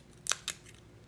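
Die-cut thicker paper pieces being punched out by hand from a sheet run through a Sizzix Big Shot, giving a few quick, crisp snapping pops close by with no talk.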